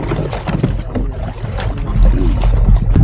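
A large boat near Talim Island in the Philippines carries a motorcycle, its engine and water noise giving a loud, steady low rumble mixed with wind buffeting the microphone.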